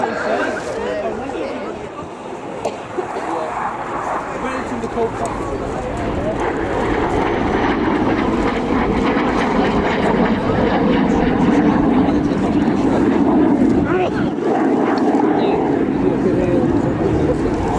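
Royal Air Force Chinook helicopter flying a display at an airshow, a continuous rumbling rotor and engine drone with a beating texture that swells toward the end, heard under a commentator's voice.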